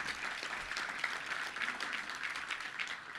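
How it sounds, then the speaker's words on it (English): Audience applause at a touchdown club luncheon, a steady wash of many hands clapping at an even level throughout with no break. "that's worth a round of applause"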